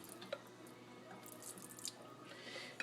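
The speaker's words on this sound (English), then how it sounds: "I'm just going to pour that right down the drain." Buttermilk left from making butter in a Vitamix blender, poured down a sink drain: a faint, quiet trickle with scattered drips and splashes, heard alone.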